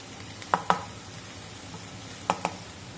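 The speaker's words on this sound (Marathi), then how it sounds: "आता यामध्ये हे जे सोया चंक्स आपण मिक्सरमध्ये बारीक करून घेतले होते ते टाकूया" Ground soya chunks dropped into a pan and stirred, heard as a few sharp scraping clatters of a spoon against the pan in two pairs over a quiet, low background.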